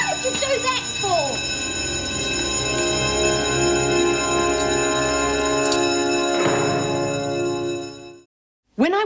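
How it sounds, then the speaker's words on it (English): A prison bell rings continuously, loud and close, a sustained metallic clang that holds for about eight seconds before cutting off abruptly, with voices talking briefly underneath. "Can't you hear the bell?"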